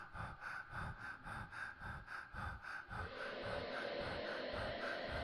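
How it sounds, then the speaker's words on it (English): A recorded breathing track played back in the BEEF music app on iOS: a steady rhythm of close, loud inhales and exhales, about two breaths per second, shifting to a rougher continuous breathy rasp in the last seconds. "it's one track of me breathing and another track of me doing some kind of death metal growl"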